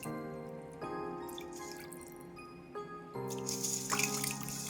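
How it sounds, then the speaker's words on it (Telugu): Fish pieces for frying are rinsed by hand in water, with splashing, dripping and sloshing in bursts that grow louder and busier toward the end, over a tonal background. "మనం చేప ఈ విధంగా నీట్గా కడగాలండి"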